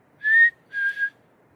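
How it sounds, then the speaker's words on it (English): A person whistles two clear, close notes outdoors at night in the mountains: a longer steady tone, then a second that wavers slightly before stopping, with quiet stillness after. "We're out in the mountains at night, and we just whistled."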